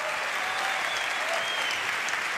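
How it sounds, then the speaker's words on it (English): A concert audience in Basel applauds a small string ensemble and rock singer, a dense, steady wash of clapping that stays loud and even throughout without voices on top. "Big round of applause"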